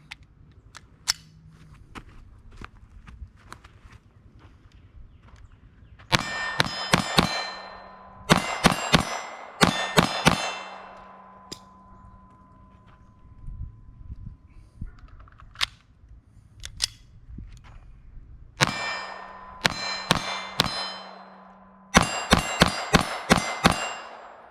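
A GSG FireFly .22LR pistol fires in rapid bursts at steel silhouette targets, each burst a quick string of sharp shots with ringing metallic clangs, separated by quieter pauses.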